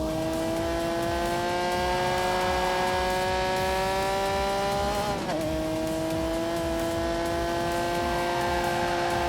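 Sustained roar of a 5-litre V12 in a racing video game, a loud steady engine tone that dips briefly mid-run, then climbs back as revs build, with tire noise underneath.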